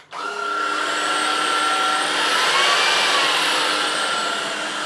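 An Ultenic U16 stick vacuum cleaner runs in eco mode, starting up with a click and then holding a steady, loud whirring motor tone with a high whine that drifts slightly in pitch.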